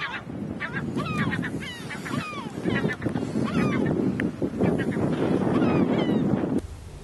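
A dense seabird colony calls on Dassen Island, with many overlapping honking and squawking cries sounding loud and continuous against wind noise.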